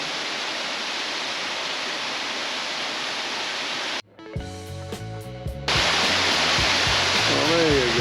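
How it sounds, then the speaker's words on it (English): Waterfall at Roche Abbey near Rotherham rushes as a loud, steady broadband roar, cut off abruptly midway by a brief stretch of unrelated tonal sound before the rushing water returns. "The waterfalls of Rotherham."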